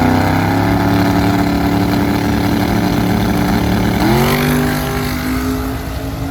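Drag racing truck in the small tire class making a full pass, its engine droning loud and steady, then dipping and climbing again at a gear change before fading slightly as it runs away.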